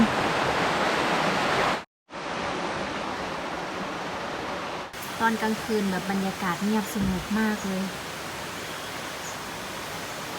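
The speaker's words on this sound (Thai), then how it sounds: "ได้ยินแต่เสียงน้ำจากลำธาร" Steady rushing water noise of a stream flowing, with someone speaking softly over it in a quiet night setting in Mae Lai Village, Chiang Mai.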